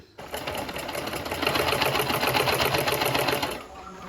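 A sewing machine stitches an Anarkali dress seam in one continuous rapid run of needle strokes, close and steady for a few seconds before stopping.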